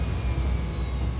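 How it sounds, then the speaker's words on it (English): An airliner's jet engine whining with a steady, slowly falling tone as thrust decreases, heard as a continuous hum in the cockpit. "Investigators hear the sound of the engine thrust decreasing"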